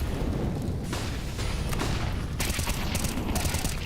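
M4 rifle gunfire from a Counter-Strike match, rapid cracking shots mixed with other battle noise, loud and continuous, with sharper bursts near the end.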